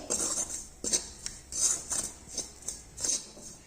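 Wheat flour and potato mixture being stirred in a pan over a medium gas flame, giving repeated clinking scrapes of a utensil against the metal at a steady rhythm, close and fairly quiet.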